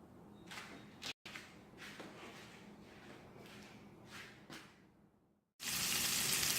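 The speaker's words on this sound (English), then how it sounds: "here I am just frying my bacon up" Thick-cut bacon strips from Costco frying in a pan on a home stove, a steady close sizzle with crackling bursts, briefly cut off twice before a loud hiss swells at the end.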